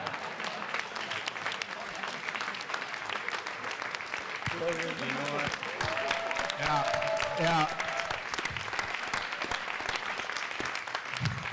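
Audience applause at a Comic Con panel, a sustained crowd clapping that runs throughout, with people talking and brief laughter over it.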